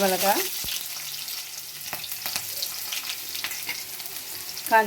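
Garlic, curry leaves and dried red chilies frying in oil after mustard seeds have popped, a soft steady sizzle with a few stirring clicks, faint and close, a voice briefly audible at the start and end.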